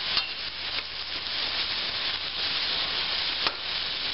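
Brussels sprouts and onion sauté in a hot pan on a stovetop, giving a steady, close sizzle that carries on evenly with a few faint clicks of a utensil.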